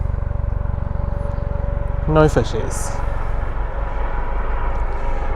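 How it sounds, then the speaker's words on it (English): A steady, pulsing rotor drone of a helicopter coming in to land at a heliport, with a brief spoken remark partway through. "there's a helicopter coming in to land at the helicopter port"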